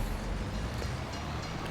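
A train rolls past in Farming Simulator 22 near Alma, Missouri, a steady low rumble and rattle that fills the whole stretch at moderate level under game ambience.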